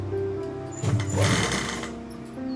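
Sewing machine running a straight stitch along trouser fabric, a steady close mechanical whir with a slightly busier burst midway, heard alone without voices.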